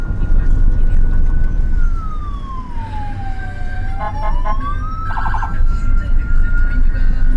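An ambulance siren wails loudly and steadily, its tone sliding slowly down and back up, with a few quick chirping bursts near the end over a constant background rumble.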